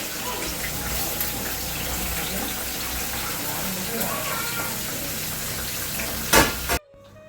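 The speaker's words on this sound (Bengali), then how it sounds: "পেঁয়াজ আর আলুটাকে একসঙ্গে ভেজে নিচ্ছি" Onions and potatoes fry together in a pan, giving a steady, even hiss that runs almost the whole time. A short louder burst comes near the end before it cuts off abruptly.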